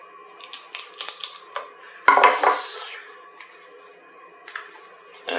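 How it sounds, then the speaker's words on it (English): A knife cuts the stems out of collard greens on a board, giving a quick series of light taps and clicks followed by a louder scraping slice, then a pause and another sharp tap. "you can cut it out just like that if you don't want the stem"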